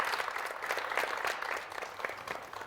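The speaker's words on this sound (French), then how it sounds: "Merci d'applaudir pour Mamie Adissa." Audience applause for Mamie Adissa at a Valentine's Day heart-to-heart show, a steady wash of many hands clapping at moderate volume, sustained and even through its length.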